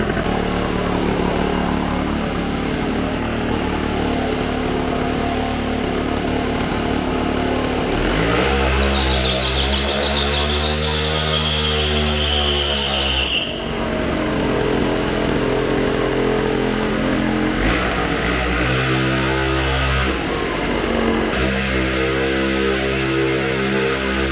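A warmed-up carbureted engine, its carb slightly gummed up, idles a little high. It runs steady and loud throughout, with the pitch rising and falling through brief revs. No one talks over it.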